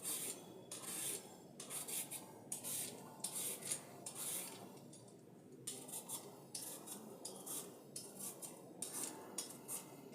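A knife scrapes repeatedly along a broccoli stem in steady rhythmic strokes, close and fairly quiet, with short pauses between them and no speech.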